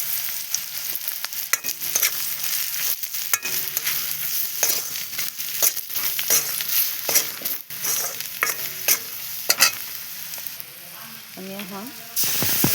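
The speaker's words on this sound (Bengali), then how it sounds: "মশলাটা চটকে কষে মরিচটা কষানো হচ্ছে" Turmeric, chilli and salt are stirred and fried in a pan for a Bengali fish curry, with a continuous sizzle broken by repeated scraping spoon strokes, close and fairly loud, while someone speaks briefly.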